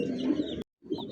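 Pigeons at a large pigeon farm coo in a dense, low, rumbling chorus close at hand. The sound cuts out abruptly for a moment and then resumes.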